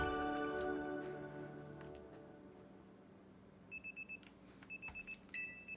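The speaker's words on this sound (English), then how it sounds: "I'm waiting for this alarm to become something." Short repeated electronic alarm beeps from the video game Pokemon Legends Z-A, in bursts of four to five quick tones, fairly clear over a fading low musical background.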